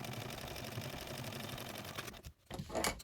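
A sewing machine stitches Velcro onto a backpack with a fast, steady whirring chatter. It pauses briefly near the end, then gives a short final burst.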